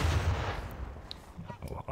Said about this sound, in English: you should see a cannonball flying your way